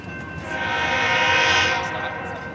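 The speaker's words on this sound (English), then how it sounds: "There's a train near the diamond." A BNSF intermodal freight train passes near a rail diamond, its horn blaring loud and steady over the rolling rumble of the railcars.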